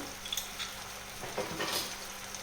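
Ground beef sizzles steadily in a hot pan, a soft continuous crackle with occasional stirring scrapes, fairly quiet.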